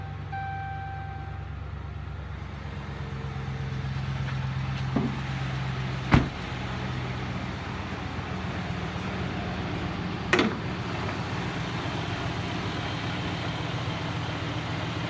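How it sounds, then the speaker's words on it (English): A 2010 Dodge Ram 1500 pickup with a Hemi V8 at 182,000 miles settles into a steady, low rumbling idle, with a couple of brief knocks or door-like thumps standing out over the even engine drone. "Looky there, a Hemi engine."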